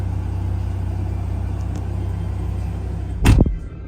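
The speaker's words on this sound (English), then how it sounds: "True cold start after 2 weeks of sitting." A 24-year-old car's engine cold-starting after sitting for two weeks: a steady low idle rumble runs throughout, then a short loud burst and surge near the end before settling, close by with no talk.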